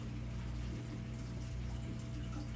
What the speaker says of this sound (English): water is leaking out down underneath the gauge right there